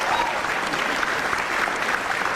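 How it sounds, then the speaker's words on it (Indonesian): Steady applause from a studio audience on an Indonesian television talk show, dense and continuous clapping filling the whole moment at an even, moderately loud level. "Oke, tepuk tangan dong buat Pak Jokowi."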